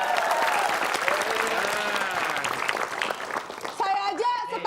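Studio audience applause, a loud dense wash of clapping that gradually thins, with people talking over it toward the end.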